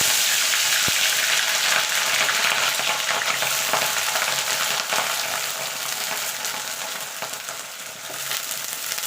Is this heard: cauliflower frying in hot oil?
yes